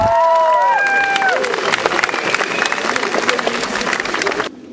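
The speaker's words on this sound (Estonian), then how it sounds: "Teeme neile veel aplausi." An assembly audience at an Estonian school flag celebration applauds ninth-grade students on their last school day: loud, sustained clapping from a large crowd with a few voices rising over it, ending abruptly.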